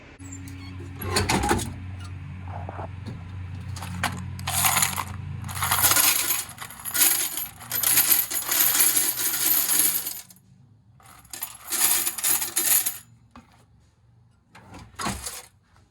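Car wash tokens being counted, with repeated bursts of metal coins clattering and dropping into a pile, close and fairly loud, with pauses between pours.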